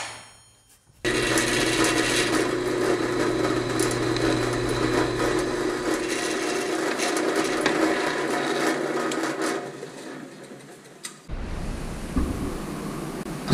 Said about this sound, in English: it's ready to go to the drill press and drill these 4 holes